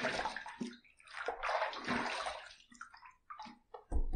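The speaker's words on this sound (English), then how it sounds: "I like to throw the extra water on there in order to add a little more water for the next lathering pass." Water splashed and cupped onto a face while rinsing off shaving lather between passes, a wet sloshing burst repeating several times close by, with a sharper splash at the end.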